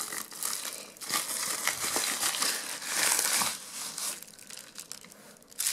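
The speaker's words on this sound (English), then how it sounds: "So now I'm going to open up this package." A package being opened, its plastic packaging crinkling and crunching loudly up close in irregular handling bursts, with brief tearing sounds and no talking.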